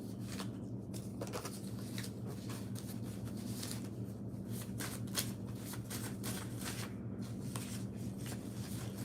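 A tarot deck is shuffled by hand, with continuous soft riffling and flicking of cards held close, steady throughout against a low hum.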